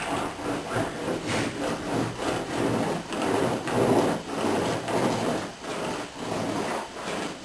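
A roller spreads epoxy over fiberglass weave in steady back-and-forth strokes, a rhythmic rubbing swish repeating about every half second, close and continuous with no talking.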